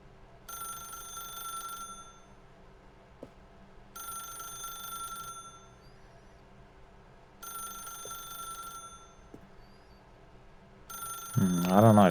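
A telephone rings in the video game The Stanley Parable, four even bursts of ringing separated by pauses, fairly loud and near, before a voice starts speaking at the end.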